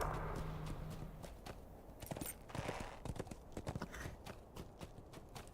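In the video game The Lord of the Rings Online, a horse's hooves clip-clop in a quick, steady gallop rhythm over faint background noise, with sharper impact sounds mixed in.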